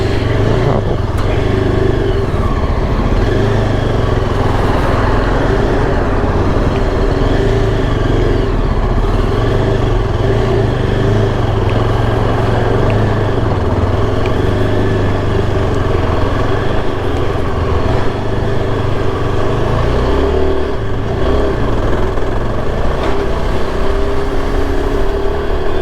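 Riding a motorcycle through early-morning road traffic with bigger vehicles around, a loud continuous engine rumble and wind roar dominate, with passing vehicles and occasional clatter mixed in throughout.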